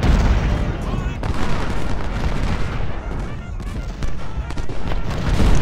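Cannon fire in the Civil War strategy game Ultimate General: Civil War: loud, repeated booming volleys that overlap into a continuous rumble, with a voice talking over the battle.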